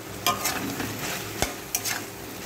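Spices, including coriander powder and red chilli powder, are stirred in a hot pan for a vegetarian Malabar spinach dish, with a continuous close sizzle broken by a few scraping strokes of the spoon.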